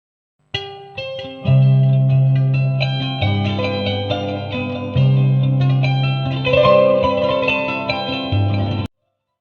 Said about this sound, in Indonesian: Berikut adalah contoh bagaimana cara sasando dimainkan.